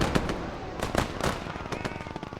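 Tank ammunition cooks off in a video game battle, a rapid, crackling string of close pops and bangs in irregular bursts, like firecrackers going off one after another.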